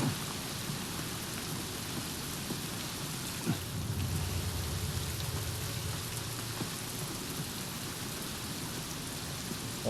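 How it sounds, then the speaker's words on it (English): Heavy rain in The Last of Us pours as a dense, constant hiss that fills the whole scene, loud and unbroken, with a brief low rumble partway through. "Let me know if I need to turn it down for the rain, but it feels like it's super loud out here"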